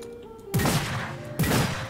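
Two loud blasts from a double-barrel shotgun in Warhammer: Vermintide come about a second apart, each a sharp boom with a booming low tail, over a faint background hum. No one speaks.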